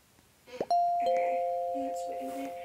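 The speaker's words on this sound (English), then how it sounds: "Kiki, do you want to ring that bell again?" A service bell at a reception desk in the Roblox game Bloxburg gives a single bright ding that rings on with a long, slowly fading tone, with voices talking softly underneath.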